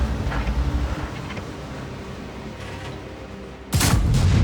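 A tank cannon firing an HE shell in the video game World of Tanks: a sharp, loud blast near the end, over a steady rumble of engine and battle noise, with no talk.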